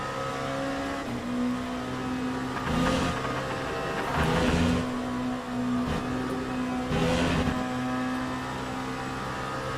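Le Mans Prototype race cars lapping Spa in the sim racing game Le Mans Ultimate, with a steady engine drone that swells as other cars rush past, with upshifts and downshifts along the way.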